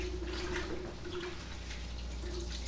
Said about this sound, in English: So just kind of drain the water a little bit